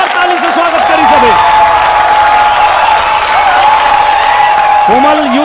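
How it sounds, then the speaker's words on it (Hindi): Studio audience on the dance contest show Dance Sangram applauding contestant Komal from Ranchi, Jharkhand: loud, steady clapping throughout, with a sustained tone and a voice over it. "संभावना जी के प्यारी कोमल के जोरदार ताली से स्वागत करी सभी"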